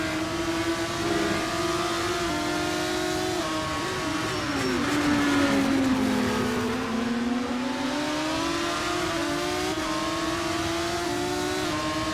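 Race car engines in a Bahrain GP racing video game drone continuously at high revs, with shifting pitch as cars accelerate and pass, loud and steady throughout with no talk.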